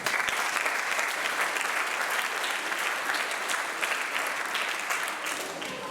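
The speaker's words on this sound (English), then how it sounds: "Please give these 2 a round of applause." Sustained applause from a school awards-night audience honouring two girls' golf medalists, a dense, steady clapping that fills the whole stretch without pause and eases slightly near the end.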